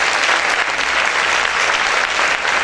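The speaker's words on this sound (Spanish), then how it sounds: "Vamos a aplaudir fuerte al Señor." Church congregation clapping loudly and continuously, a dense close wash of hands throughout with no break.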